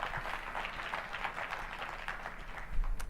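Steady audience applause fills a large keynote hall at AMD's Computex 2019 event, a dense continuous patter of many hands at moderate level with no talk over it.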